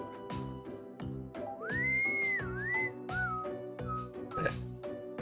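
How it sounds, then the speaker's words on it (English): Innocent-sounding whistling from a character in Trails of Cold Steel: a clear rising and wavering whistled tune over a plucky, bouncy game music loop, moderately quiet. "That innocent whistling isn't fooling anyone."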